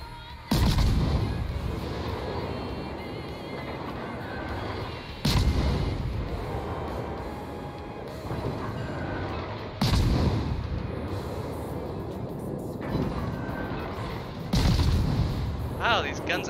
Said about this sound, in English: Wow, these guns actually do damage.